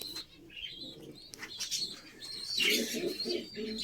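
Domestic pigeons coo softly in a loft, with repeated low throaty calls, higher chirps and a brief flutter of wings, all fairly faint and close.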